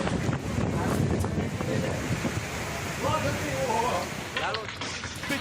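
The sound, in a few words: strong cyclone wind, Cyclone Nisarga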